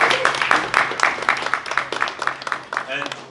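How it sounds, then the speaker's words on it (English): At a small community meetup, a modest group claps for the evening's speakers, a sparse, uneven patter of individual claps with voices mixed in over it. "Can we hear a round of applause for our speakers?"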